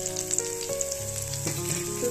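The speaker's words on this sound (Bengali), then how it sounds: "প্রথমে আমি একটু পেঁয়াজটা লাল লাল করে ভাজা করে নেব" Onions frying in hot oil in a wok (kadai) previously used for frying eggs, a steady close sizzle with light stirring scrapes throughout, no talking.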